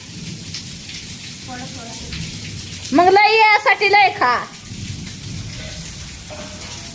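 Heavy rain pours down in a steady, close wash of noise, while people talk over it and one voice rises briefly in the middle.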